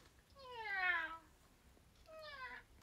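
A voice imitating a cat, giving two drawn-out meows, the first longer and louder and the second shorter after a brief pause, with nothing else behind.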